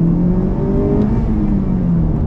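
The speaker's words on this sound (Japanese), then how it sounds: "じゃあここから2速全開で合流していきます。" A Honda Civic Type R turbo accelerates at full throttle in second gear while merging, its engine droning loud and steady from inside the car, with a rising tone throughout.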